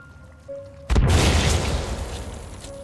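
A bomb detonates in the survival video game Sons of the Forest: one sudden, loud boom that rumbles and fades over a couple of seconds.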